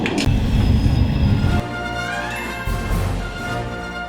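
Mountain railway train climbing toward the Zugspitze in the German Alps, a steady loud rumble of wheels and carriage noise with a faint high squeal and a shift in tone partway through.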